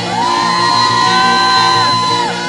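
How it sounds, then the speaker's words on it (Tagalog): A loud congregation at a church worship service in Sharjah, UAE lets out a sustained, rising shout that holds for a couple of seconds before tapering off. "Yung sigaw na malakas na malakas"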